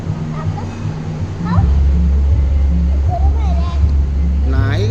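A puppy whimpers and gives short high yips while being fed, rising cries breaking through now and then over a steady low hum, with someone talking softly to it close by.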